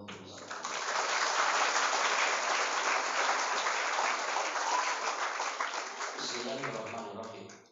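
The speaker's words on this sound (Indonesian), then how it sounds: "berikan tepuk tangan kita untuk saya." An audience of hundreds of female religious teachers at Gontor Putri applauds loudly and steadily at a motivational event, and the clapping tapers near the end as a voice begins speaking.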